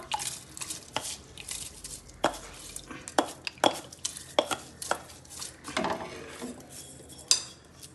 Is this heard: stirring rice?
yes